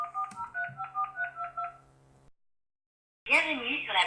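Telephone number dialed for a prank call, a quick run of about a dozen rhythmic keypad beeps over two seconds, then a brief silence before a recorded voice answers.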